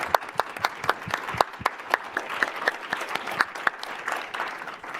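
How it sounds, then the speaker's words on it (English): Audience at a panel discussion on political campaigning gives a round of applause, a sparse, distinct scattering of individual claps at moderate volume in a room, slowly thinning toward the end. "thanking all of our panelists with a round of applause"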